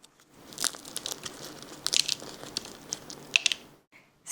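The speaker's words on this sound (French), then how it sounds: "C'est croustillant. Le croissant est croustillant." A crunchy croissant is bitten and chewed close up. Crisp, irregular crackling crunches are scattered over a few seconds, with a sharp bite near the end and no talking.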